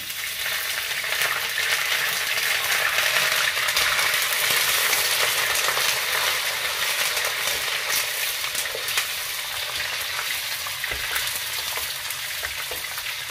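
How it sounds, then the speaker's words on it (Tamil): Ginger, garlic and curry leaves fry in hot oil in a pan for crab curry, giving a loud, steady crackling sizzle with faint stirring scrapes and no talk. "வெட்டி வச்சுருந்த இஞ்சி பூண்டு போட்டுக்கோங்க. கொஞ்சம் கருவேப்பிலை சேர்த்துக்கோங்க"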